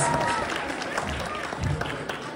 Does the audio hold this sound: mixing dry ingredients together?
no